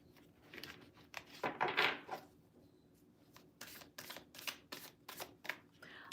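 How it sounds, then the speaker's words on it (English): Tarot cards being shuffled by hand, a series of quick riffling and flicking bursts, close but fairly quiet, with no talk over them. "Let me throw a few cards and see what we receive."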